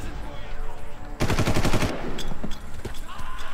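Loud, close automatic gunfire in the Far Cry video game, a rapid burst of about a dozen rounds lasting under a second, followed by scattered single shots and echoing clatter.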